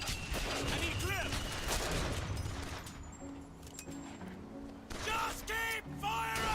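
BioShock Infinite combat brings rapid bursts of gunfire and explosive booms, loud and close. A voice shouts over the shooting at times.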